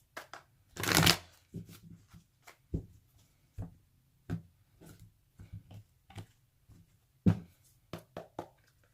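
Tarot cards being shuffled during a Sagittarius love reading: a loud riffle burst near the start, then a run of softer, separate card slaps and taps spaced irregularly across the stretch, with no voice.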